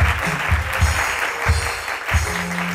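Audience at a weekend show applauds, with steady clapping throughout and rhythmic low thumps beneath it.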